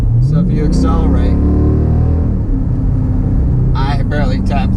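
A 2016 Jeep Grand Cherokee SRT Night Edition engine revs under a light tap of the gas, a deep close rumble rising in pitch while someone talks over it.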